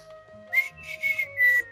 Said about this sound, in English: Straight to the whistling.